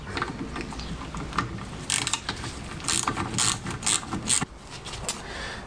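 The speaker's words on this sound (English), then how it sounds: "Swap for our 10mm. and just tighten these up." A hand ratchet tightens 10mm bolts on the front brakes of a classic Fiat 500, with rapid clicking bursts in quick runs. Close, fairly loud metallic pawl clicks with short pauses between strokes, no voices.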